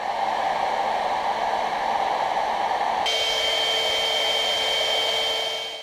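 A Philips hot air styling brush runs with a loud, steady blowing roar, close and continuous, its tone shifting to a brighter, whinier pitch halfway through.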